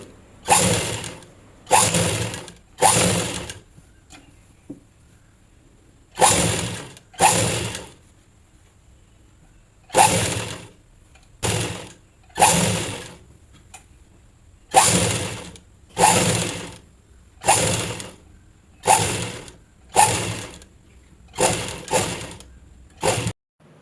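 A sewing machine stitches thread piping onto a blouse in repeated short runs, each burst of whirring and clattering needle action lasting about a second and separated by brief pauses, loud and close.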